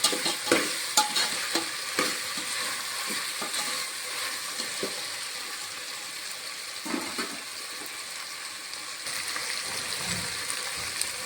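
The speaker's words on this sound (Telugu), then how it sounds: "ఒక స్పూన్ అల్లం వెల్లుల్లి పేస్ట్ కొద్దిగా బఠానీ బాగా కలుపుకోవాలి" Peas being stirred with ginger garlic paste in a pan for veg biryani, a steady frying sizzle with repeated scraping and clinking strokes of a spoon throughout.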